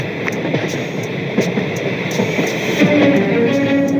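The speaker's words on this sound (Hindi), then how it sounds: "ट्रेन स्टेशन पर जैसे ही रुकती है," A train rolls into a station and slows to a stop, a loud, steady rumble with rhythmic wheel clicks and a rising squeal of brakes near the end.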